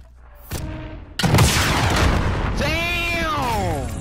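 A rocket launcher explosion in Call of Duty Warzone: a loud broadband blast erupts and rumbles on, followed by a rising whooshing tone, with voices of players underneath.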